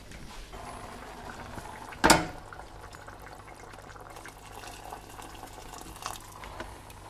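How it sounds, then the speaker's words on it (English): A brief splashing pour of hot water into a cooking pot of chicken tikka masala near the 2-second mark, with quiet kitchen room tone before and after. "I'm just going to add a little bit more hot water to this."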